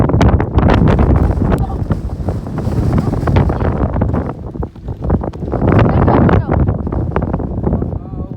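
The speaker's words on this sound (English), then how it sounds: "That there shows how windy it is" Strong gusting wind batters the microphone outdoors on a Gus Peak hike, making loud, rumbling buffeting that rises and falls throughout, with a voice heard faintly under the roar.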